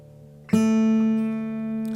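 A fingerstyle acoustic guitar plays a section of the "Raglan Road" intro: faint ringing strings, then a single firm pluck that rings on in a long, sustained tone, close and clear with no talking.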